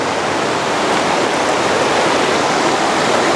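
A steep highland stream rushes over bare rocks at a village crossing, making a loud, close, continuous roar of churning water with no break and no voices.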